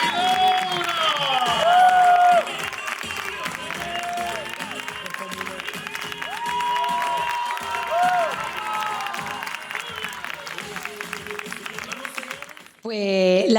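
Applause and cheers rise from a crowd after a music performance, sustained clapping under shouts and whoops, with a singing voice carrying over the noise at times.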